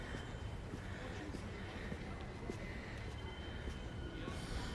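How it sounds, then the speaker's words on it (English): A New York City subway train runs near the Coney Island boardwalk at night, a steady low rumble and rattle of cars on track, faint and continuous throughout. "The sound of the subway."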